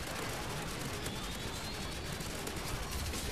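Rapid gunfire from the video game Call of Duty Modern Warfare 2, a steady dense crackle of shots running through the whole stretch at moderate level, with no talk.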